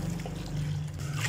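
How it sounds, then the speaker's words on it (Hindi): Water poured from a bowl into a yogurt and gram flour curry mixture, a steady continuous trickle with a low gurgling tone lasting about a second, close by and alone. "ये 1 बाउल ये है, 2 बाउल भर के हम इसमें पानी की शामिल करते हैं।"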